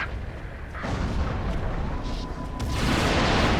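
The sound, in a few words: mortar artillery fire in the video game Resistance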